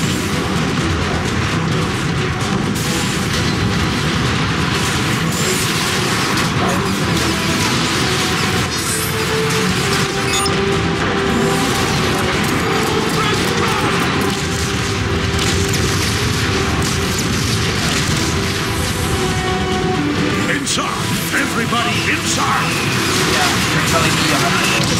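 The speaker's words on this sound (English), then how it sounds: "That warp cannon will rip us to pieces if we stay out here much longer! Right. Incoming artillery!" Artillery shells boom and explode across a plaza in the video game Transformers: Fall of Cybertron, a dense continuous roar of blasts and rumble throughout, with character voices talking over the barrage.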